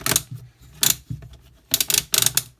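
Swiveling the LED heads of a Parkside PBSL 500 A1 power-bank spotlight produces a few loud, close plastic clicks and ratcheting snaps in two clusters, with quieter handling noise between them.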